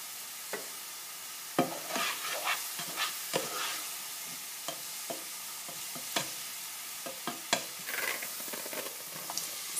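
Vegetables sauté in a pan, producing a soft, low sizzle broken by scattered clicks and scrapes from stirring.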